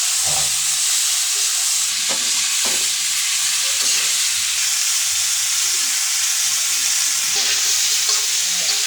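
Spiced curry of singhi fish, bitter gourd and potato being sautéed with turmeric, chili and coriander powder, a dense, loud, continuous sizzle with occasional spatula scrapes, close up and without speech.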